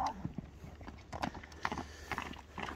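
A horse being shown and judged moves on hard ground, its hooves clip-clopping in an irregular, fairly faint patter with brief louder strikes and a few soft whinny-like sounds.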